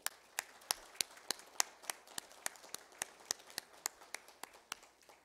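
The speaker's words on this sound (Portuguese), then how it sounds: "eu convido os colegas aqui a um aplauso para esses dois fantásticos companheiros aqui" Faint, evenly spaced hand claps sound in a meeting room at a plenary session, a single steady rhythm of crisp claps repeating about every third of a second, quiet and fairly distant.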